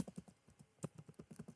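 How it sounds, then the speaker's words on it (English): Typing on a computer keyboard, a quick run of soft, close key clicks in an uneven rhythm, quiet and alone. "Now click on the search bar and type"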